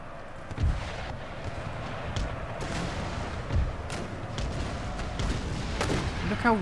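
Cannon fire across a battlefield in Empire: Total War, deep booms landing every few seconds over a steady rumble of distant musketry and battle noise, with a voice faintly talking.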